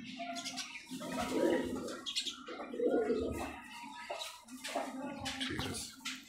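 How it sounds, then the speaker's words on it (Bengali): A pair of large local Giribaz pigeons coo in repeated low, throaty phrases with soft rustling and chirps mixed in, heard up close at moderate volume without speech. "এই হচ্ছে নটটা বেশ বড় সাইজের কবুতর জোড়া"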